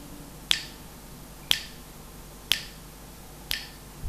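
Four crisp finger snaps at a steady one-per-second beat, close and clear against a quiet room, demonstrating rhythm in a music lesson.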